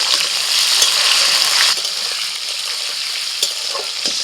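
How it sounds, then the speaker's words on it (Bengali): Large chunks of capsicum and tomato fry lightly in hot oil in a kadai, giving a loud, steady sizzle with brief stirring scrapes and clicks; no one speaks. "একটু হালকা করে ভেজেই তুলে নিচ্ছি।"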